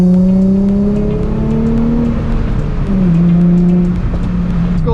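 A Nissan 350z engine revs loudly and steadily throughout a burnout attempt on a rainy canyon road, its pitch climbing and dipping with throttle, close and continuous with no voices.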